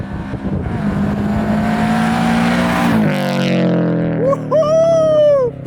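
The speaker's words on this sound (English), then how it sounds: "We are unlocking the Subaru Rumble finally." A 2022 Subaru BRZ with a Tomei UEL header and Tomei Expreme Ti exhaust revs up close and loud. The engine drone climbs steadily, drops sharply, then gives two quick rising blips near the end.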